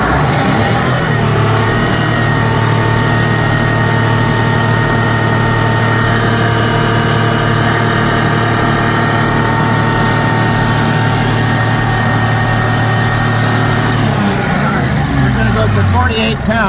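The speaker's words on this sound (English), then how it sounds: "We're going to rev it wide open." A GM bus engine is held at wide-open throttle with a steady, loud droning roar for about fourteen seconds, then winds down as the revs fall.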